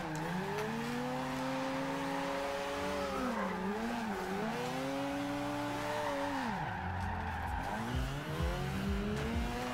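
A car engine runs steadily through a corner in third gear without bogging down, its drone rising and falling in pitch as it revs, with tire squeal and a dip in revs near the end, no talk.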